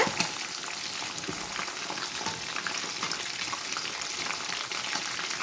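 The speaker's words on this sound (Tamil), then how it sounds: "இது மாதிரி முறுமுறண்டு பொரிச்சு எடுத்துக்கோங்க." Chicken lollipops deep frying in hot oil until crisp, a steady close crackle and sizzle with dense popping that runs unbroken throughout, with no talking.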